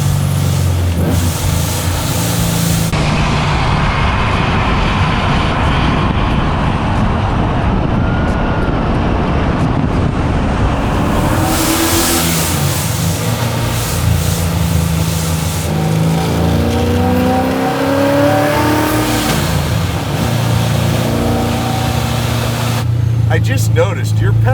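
Supercharged 850 hp 1969 Camaro restomod engine revving loud and close, a steady heavy roar with rising and falling rev sweeps, with people talking over it at times.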